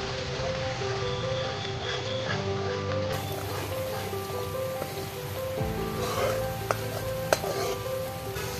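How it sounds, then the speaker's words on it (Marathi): Spices with half a spoon of garam masala are sautéed in a pan for a dhaba-style mushroom masala, producing a continuous close sizzle and stirring clatter with no voice heard. "या मसाल्यांना छान असं परतून घेऊया आपण"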